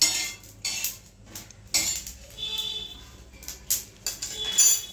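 Metal spoons scoop fennel seeds and sugar crystals onto a plate in a kitchen, making close, bright clinks and scrapes in irregular bursts separated by brief quiet gaps.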